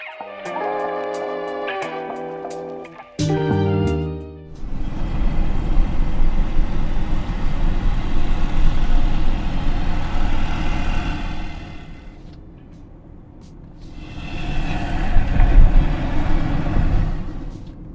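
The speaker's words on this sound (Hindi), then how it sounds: "जब मैंने विंडो रोल अप किया तो बाहर की आवाज़ बहुत कट हो गई" Muffled road and engine rumble inside the cabin of a 2026 Tata Tiago EV with the window rolled up, a steady low drone that swells and fades slightly, preceded by a brief burst of louder music-like tones at the start.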